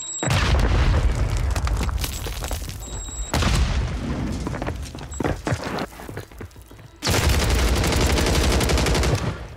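Grenade blasts and gunfire in the Warzone battle royale game: loud booming explosions with rolling rumble, broken by bursts of rapid shots and a short lull before another heavy blast.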